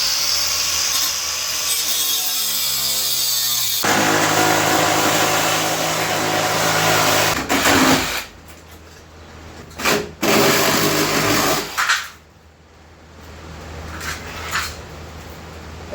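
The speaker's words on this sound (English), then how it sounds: "So I'm going to get the grinder in here, and we will kind of whack this out of here." A grinder works loudly on sheet metal while a car rocker panel is fabricated by hand for a Checker, first in a long continuous pass, then cut into short bursts with pauses between.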